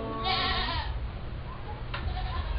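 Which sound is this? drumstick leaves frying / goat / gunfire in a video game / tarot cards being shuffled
goat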